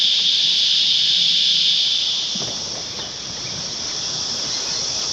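A continuous high-pitched insect drone, steady and fairly loud, fills the air with a faint rustle underneath.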